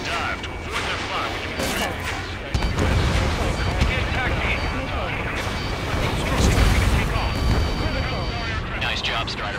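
Heavy anti-air fire from an enemy naval fleet in Ace Combat 7 rumbles as dense, continuous bursts and booms under jet engine noise. The barrage swells loud partway through, and a voice is heard over it.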